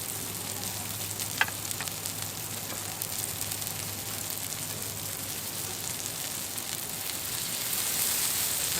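Smashburger patties sizzle on a grill in a steady, close, crackling hiss that holds evenly throughout and swells slightly near the end, with no talking.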